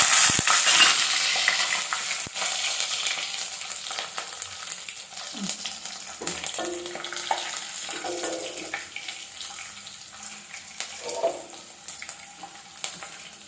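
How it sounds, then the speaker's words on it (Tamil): Red chillies and garlic frying in a pan for a sundakai dish, a soft hiss that is loudest at the start and eases off, with a few scattered knocks and clinks from utensils. "ஒரு கைப்பிடி பூண்டு உரிச்சு வச்சிருக்கேன், அதையும் இது கூட சேர்த்துக்கலாம்."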